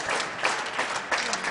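Spectators applauding at a men's handball final in Coeur d'Alene, Idaho, a brief burst of indoor clapping with a few quieter voices mixed in.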